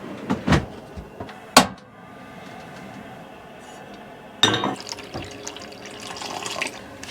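Water poured from a tap into a small pot for boiling an egg inside a camper van, a steady running splash preceded by a few clinks and knocks of the pot, close and fairly loud.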